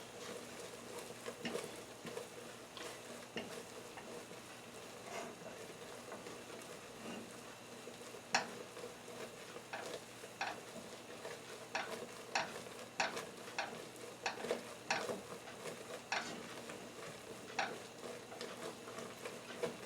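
Chocolate and marshmallows are stirred in a pot as they melt, giving soft continuous scraping and sizzling texture with scattered sharper clicks of the spoon against the pot, steady and fairly quiet with no talking.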